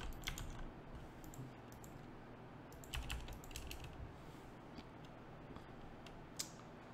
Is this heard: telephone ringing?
no